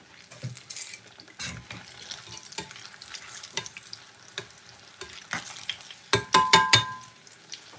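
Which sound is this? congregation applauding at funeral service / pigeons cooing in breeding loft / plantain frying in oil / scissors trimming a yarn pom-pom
plantain frying in oil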